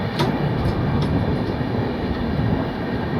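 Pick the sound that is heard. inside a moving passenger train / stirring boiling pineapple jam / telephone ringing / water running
inside a moving passenger train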